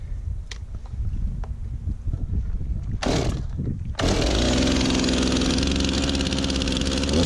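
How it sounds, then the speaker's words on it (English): A Stihl MS 391 chainsaw with a 25-inch bar is pulled several times, then roars to life and runs loudly and steadily close by, with no talking. "It's a pretty beastly chainsaw. It's got a lot of power."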